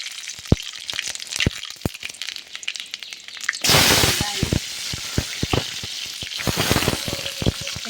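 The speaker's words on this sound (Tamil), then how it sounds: "இறக்கிட்டு தாளிசம் போடுவோம் இப்போ கடுகு கடுகு காஞ்ச மிளகாய்" Mustard seeds and dried red chillies hit hot oil for a South Indian tempering. Scattered crackles and pops come first, then a sudden loud burst of sizzling that continues, close by and dense with sharp snaps.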